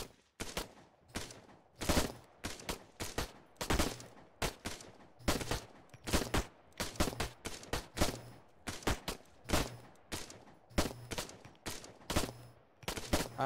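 Gunfire rings out at a shooting contest in Arma 3 Altis Life, with dozens of sharp, loud shots cracking in irregular clusters and rapid bursts over several seconds, with no talking.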